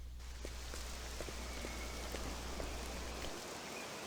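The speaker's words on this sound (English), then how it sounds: "The rain." Steady rain in the video game Octopath Traveler 2, a soft even hiss with faint scattered drops, alone and with no voices.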